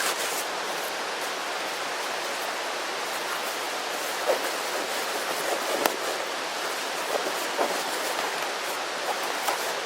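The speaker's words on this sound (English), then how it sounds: "And it's starting to rain." Steady, dense hiss of rain falling through trees, with a few faint drips and taps standing out now and then; no voices.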